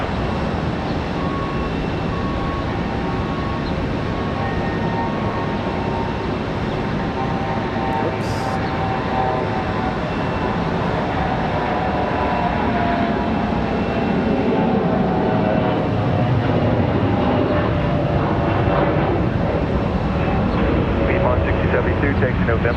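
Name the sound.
Airbus A321 taking off to Fort Myers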